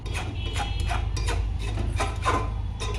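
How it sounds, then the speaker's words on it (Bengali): A utensil stirring and scraping thickening milk in a pan while making rabdi, with repeated close rubbing strokes in an uneven rhythm over a low steady hum. "দুধটা ফুটতে ফুটতে একবারে মরে গেছে, ভালো করে নেড়ে নিচ্ছি আমি"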